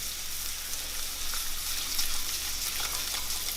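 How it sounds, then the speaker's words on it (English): Carrots and garlic sauté in a hot pan as part of a broccoli and carrot side for salmon. A constant soft, hissing sizzle holds steady throughout, with no speech. "Now I'm adding my carrots, getting them sauteing going."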